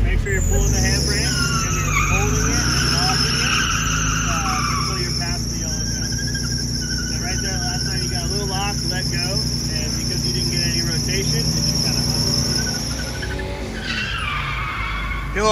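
Tires on a drift car skid and squeal continuously as it spins donuts, the engine revving loudly underneath for the whole stretch, with no talk.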